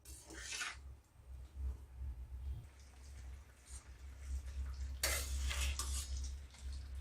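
A spoon scrapes and stirs through petha boiling in thick sugar syrup in a pan, close up, with steady rubbing strokes, occasional light clinks and a low bubbling rumble underneath.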